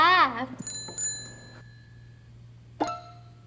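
Subscribe notification bell sound effect: bright, ringing dings that chime twice in quick succession and then once more later, each decaying into a faint sustained tone, after a brief chirpy voice-like sound at the start.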